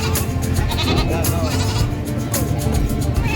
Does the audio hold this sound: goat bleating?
yes